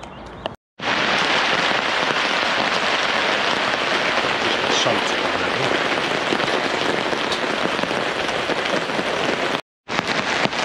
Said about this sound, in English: When you hear the rain beating down on your shelter